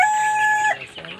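Desi and tiger chickens give a brief call, one drawn-out tonal note followed by a short, choppy cluck, close and fairly clear.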